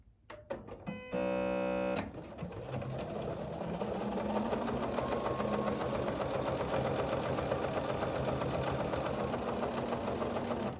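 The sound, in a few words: sewing machine stitching a placemat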